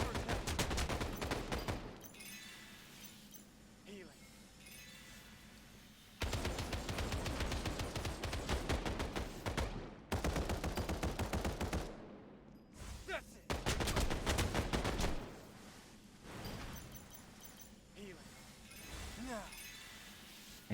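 Rapid bursts of gunfire and automatic weapon fire in the battle royale game FF7 First Soldier, with loud volleys separated by quieter gaps, plus glassy clinks and a player talking over the action.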